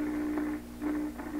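A 1928 RCA Victor Model 28V radio gives a steady hiss of static with a constant hum, swelling in brief bursts of crackly noise, fairly quiet and continuous with no voices.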